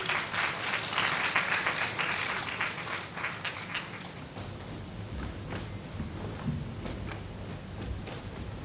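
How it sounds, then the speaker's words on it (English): School audience applauding the head boy, head girl and prefects at a Year 6 awards event, a strong burst of clapping that gradually thins and fades, heard from a distance at low level. "Give them a round of applause."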